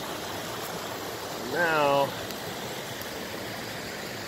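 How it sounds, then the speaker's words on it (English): Steady broadband rush of a creek flowing near a large waterfall, constant and fairly close throughout, with a man's brief spoken word partway through. "I gotta figure out how to get across this creek."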